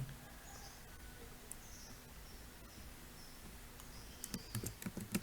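Faint computer keyboard typing near the end, a short cluster of quick light key clicks after a few seconds of quiet room hiss, with faint bird chirps in the background.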